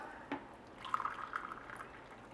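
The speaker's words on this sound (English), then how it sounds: "That's 3 cups of boiling water." Boiling water poured into a pot for Portuguese seafood rice, a faint, steady liquid stream lasting a couple of seconds after one soft knock.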